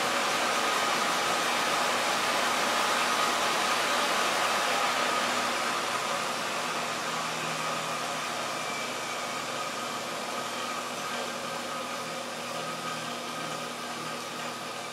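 A salvaged treadmill motor for a belt grinder build runs steadily under speed control, a continuous whirring hum with broadband noise that eases slightly lower over time. No one speaks.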